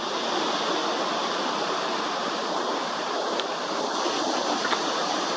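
Ocean waves at Myrtle Beach with the tide going out make a steady, dense wash of surf, a continuous broad roar with slight swells and no voices.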